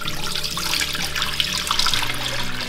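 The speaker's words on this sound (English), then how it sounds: "I'm adding 5 cups of water." Water pours steadily into a large Dutch oven with a constant splashing rush, close and fairly loud, with no talking.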